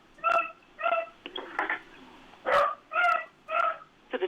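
A dog barks in the background of a municipal council video call, about seven separate barks at a steady, slightly uneven rhythm, each heard through the narrow, thin sound of the call line.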